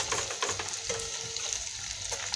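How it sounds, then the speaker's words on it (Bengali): Chicken pakoras frying in hot oil until reddish, a steady close crackling sizzle with scattered pops throughout, no talk. "এবার আমি একটু লাল লাল করে ভেজে এবার আমি তুলে"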